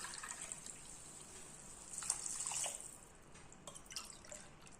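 Water is poured into a pot of rice and green gram, a faint, thin trickle with soft splashing that swells briefly in the middle and then tapers off, with no talking.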